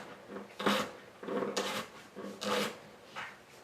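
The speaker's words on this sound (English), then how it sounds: "And then you just want to roll your knife through it," Knife rolling through fennel on a cutting board, cutting it into strips: four soft rasping slices in a steady rhythm, close and quiet, with no voices.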